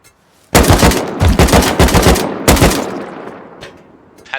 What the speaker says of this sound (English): Panicked AK shots?